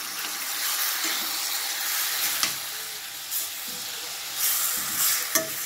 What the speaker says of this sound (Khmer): យើងដាក់គីមជីចូលឆាជាមួយ